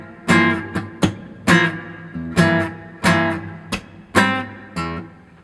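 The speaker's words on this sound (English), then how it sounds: "Measure 38 has some muted up strokes and slaps" Acoustic guitar played slowly with muted upstrokes and thumb slaps on whole chords, from an acoustic tune: a steady string of percussive chord hits, some louder strums and softer muted clicks, close and alone.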